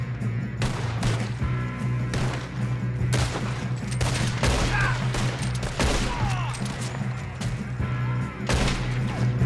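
Gunfire in Red Dead Redemption 2 bursts out repeatedly, a dense string of loud, sharp shots at irregular intervals over a low steady hum, with some faint voices in the mix.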